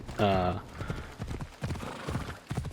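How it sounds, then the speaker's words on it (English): A horse in the video game Assassin's Creed Odyssey neighs loudly with a shrill whinny, then hooves clip-clop in a quick galloping rhythm, close and clear, with someone talking over it. "I'm also going to grab the horse."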